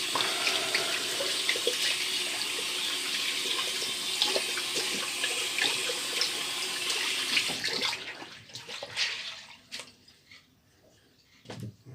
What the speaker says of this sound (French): Juste rincer mon gant de toilette qui est rempli.